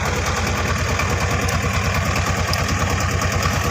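A motor boat engine runs steadily on a haor wetland in Dharmapasha, Bangladesh, a close, loud, throbbing drone with an even pulsing rhythm throughout.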